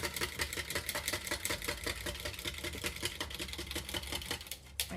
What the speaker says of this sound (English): give it a whisk